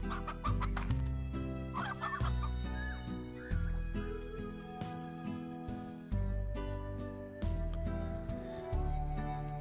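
Video game chickens in Slime Rancher cluck repeatedly over a busy musical backdrop, their short calls scattered throughout the clip.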